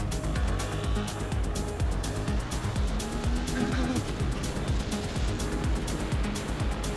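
Suzuki GSX-8S motorcycle accelerating hard in its A riding mode, a loud continuous engine roar with rising pitch sweeps, heard up close under steady wind rush.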